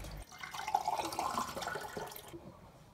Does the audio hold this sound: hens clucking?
no